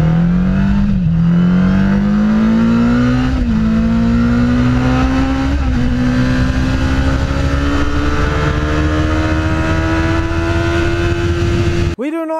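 A 2015 Kawasaki Ninja ZX-10R engine revs up under open throttle, its pitch climbing steadily in a loud, sustained howl with brief dips at gear changes, ending abruptly after about twelve seconds.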